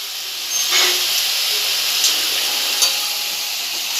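Wild cardamom stalks being stirred in a pan with turmeric and salt, giving a steady close hiss of steam and sizzle with a few soft scrapes of the spoon.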